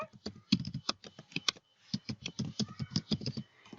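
Fingers type an email address on a computer keyboard, a quick, uneven run of close, crisp key clicks with a short pause partway through.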